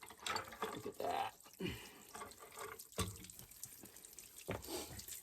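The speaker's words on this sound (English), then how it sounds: "So we got quite a bit of antifreeze coming out," Antifreeze drains out of a seasonal cottage's water plumbing during winterizing, a low, gurgling, splashing flow with irregular surges and drips, fairly faint and close.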